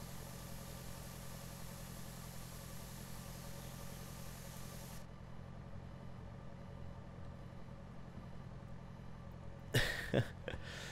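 A steady, droning engine runs on an orchard sprayer in the farming video game Pure Farming 2018, giving a continuous mid-low hum that drops in brightness partway through and ends with a few sharp clicks.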